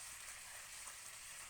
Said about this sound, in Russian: Тушку начинаем обжаривать с кожурой.